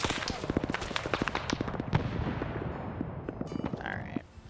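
Rapid volley of grenadier strike explosions in a military video game, dense overlapping booms and cracks rolling for several seconds at steady loudness, then tapering off near the end.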